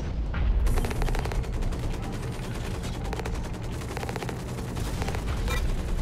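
Sustained rapid automatic gunfire from a deployed turret in the mech shooter video game Hawken, dense and loud with rattling bursts over a rumbling battle background.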